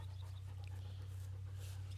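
A dog pants steadily and close by in a quiet room, a continuous breathy rhythm over a low constant hum, with no voices.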